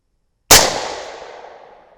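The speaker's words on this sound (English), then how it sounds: "We'll shoot at the top left dot." A 6.5 Grendel rifle loaded with 120gr Speer Gold Dot fires a single sharp, loud shot after a moment of silence, and the report rings out and decays over about a second and a half.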